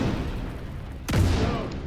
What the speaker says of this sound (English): explosions galore. That was a gorgeous grenade.